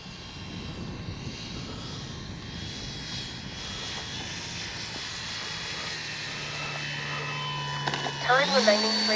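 An E-flite SNJ-5 Texan RC airplane flies at a distance, its electric motor making a steady whining drone that rises in pitch near the end, while someone speaks over it.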